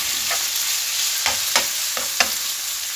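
Chicken pieces fry in a pan, giving a continuous bright sizzle with a few sharp clicks and scrapes of stirring scattered through, close and alone.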